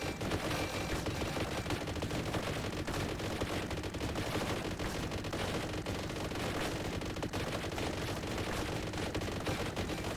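Las gun firing continuously in the Warhammer Survivors video game, a dense, unbroken rattle of rapid shots running steadily at a constant level throughout.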